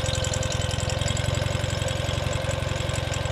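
A Russian Ural motorcycle trike engine idles in neutral with a fast, even, throbbing pulse, close and steady, alone and without talk.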